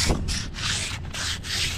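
Rough, rhythmic rasping of thin sandpaper rubbed back and forth over a surface, close up, in several steady strokes.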